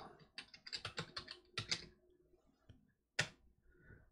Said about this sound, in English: So we type in demo 1